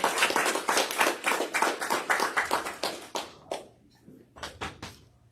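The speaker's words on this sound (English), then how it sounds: "Another round of applause for him." A small group claps for a speaker at a recovery meeting, a dense burst of handclaps that thins out into a few scattered, separate claps near the end.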